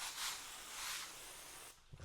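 A steady hiss of liquid spraying close by onto paint protection wrap film on a car bonnet for about two seconds, then stopping abruptly, followed by a soft handling rustle.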